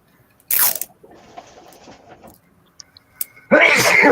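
A person sneezes sharply and loudly near the start, followed by a softer stretch and a second forceful, breathy burst at the end.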